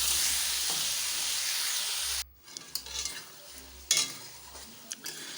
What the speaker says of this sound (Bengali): দুটো কড়াইতে এদিকে মাছ ভাজা হচ্ছে